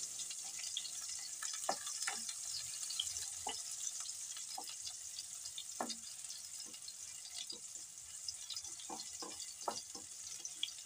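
Ingredients for chicken curry fry in a pan with a soft steady sizzle, broken by frequent small crackles and the scrape of stirring, close and fairly quiet with no talk.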